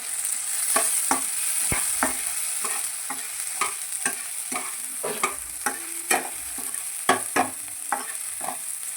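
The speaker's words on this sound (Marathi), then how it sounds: "लसूण बारीक केलं आहे लसूण आणि त्याला हलवायचं" Finely chopped garlic stirred and fried in a pan for a fenugreek dish, a steady close sizzle broken by frequent sharp scraping strokes of the spatula in an uneven rhythm, with no talk.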